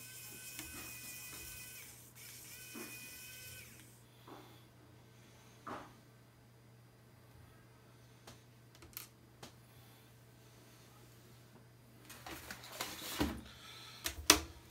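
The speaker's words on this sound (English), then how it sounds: "I'm going to unscrew some of these parts, re-screw them up, see how it works" A Wowstick 1F Pro electric screwdriver unscrews small screws, two faint high whirring bursts early on, then sparse quiet clicks and handling taps, with a slightly busier clatter of small parts near the end.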